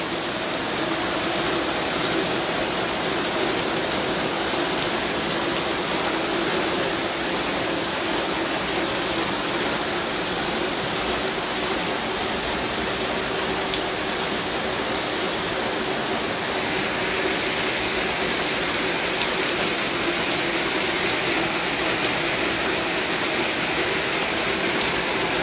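Heavy rain pours on a rainy morning, a constant loud wash of falling water that holds evenly for the whole stretch, with no talk.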